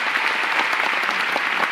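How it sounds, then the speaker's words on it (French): An audience at a comedy club applauding a comedian: dense, continuous clapping from a large crowd, loud and even for the whole short stretch. "Vous pouvez l'applaudir."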